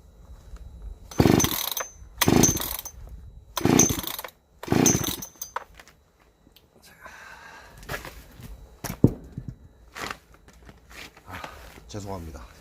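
A Deokcheon chainsaw is pull-started: four loud, rapid starter-cord pulls, each a short rasping burst about a second apart, then quieter handling noises and a sharp click with faint breathing.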